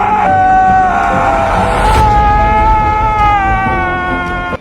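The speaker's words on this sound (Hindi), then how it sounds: "इसके बाद वो बहुत जोर से चिल्लाता है।" A man screams very loudly in a film scene, a long sustained howling cry that wavers in pitch and holds nearly unbroken before cutting off abruptly.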